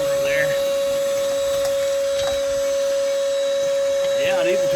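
A cordless ash vacuum powered by a DeWalt 20V Max lithium battery runs with a steady, nearby motor whine and hum while picking up ash and larger chunks, with voices talking over it.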